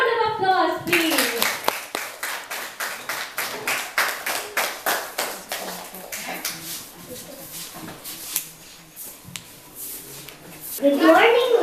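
A classroom audience gives steady rhythmic clapping for a debate chairman, close and distinct hand claps in a regular beat that gradually thins out, with voices at the start and end.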